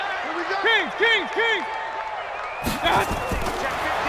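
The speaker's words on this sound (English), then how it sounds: "the crowd getting into it as we come up on a big 3rd down" Football stadium crowd roars and cheers ahead of a big third down, a broad wash of noise that swells louder in the last second and a half, with a voice speaking over it early on.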